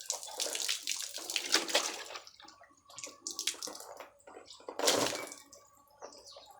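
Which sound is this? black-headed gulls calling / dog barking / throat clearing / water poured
water poured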